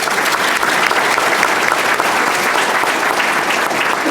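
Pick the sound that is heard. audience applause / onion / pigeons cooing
audience applause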